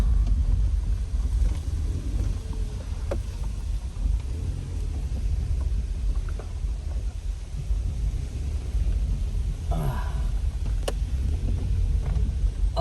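A car creeping slowly over a badly potholed dirt road in Quezon Province, heard from inside as a continuous low rumble with occasional thuds and knocks, no talking.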